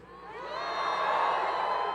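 A large political rally crowd in Grand Rapids cheers and whoops, the roar swelling from quieter to a sustained, dense wall of voices heard at a distance.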